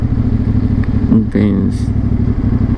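A motorcycle engine runs steadily and close by while being parked, a continuous mid-pitched drone with a brief clattering bump partway through and no talking.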